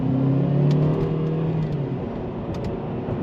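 A Buick Cascada's turbocharged four-cylinder engine revs up and pulls away with a rising whir and rumble, then settles into a steady drone as it keeps driving.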